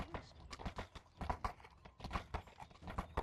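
Hooves clip-clop in quick, uneven bursts as a horse moves in a fantasy roleplay game, close and fairly soft, with faint voices mixed in.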